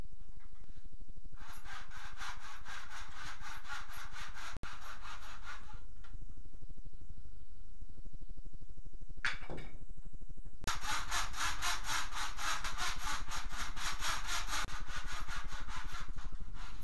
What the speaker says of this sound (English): I've finished cutting the frame for the window for the bulkhead